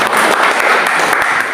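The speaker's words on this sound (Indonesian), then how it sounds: "Berikan tepuk tangan buat Dia" A congregation applauds during a praise and worship service in a Jakarta apartment gathering, dense loud clapping filling the whole short stretch with no talk over it.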